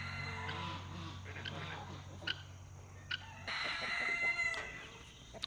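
Silkie chickens and geese on a rural property cluck and crow in the background, with a few sharp calls rising over a continuous low murmur and occasional talk.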